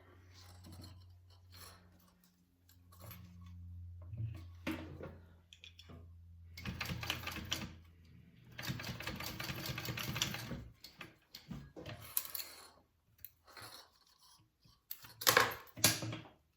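Sewing machine stitching fabric tabs onto the top of a handbag, heard in bursts of rapid mechanical needle chatter with pauses between runs, fairly close, with faint handling of fabric and no talk.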